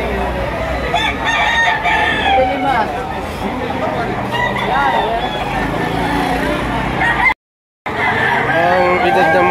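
Roosters crowing and clucking at a busy chicken market in Lipa City, Batangas, a loud, crowded mix with people talking throughout and babble around them.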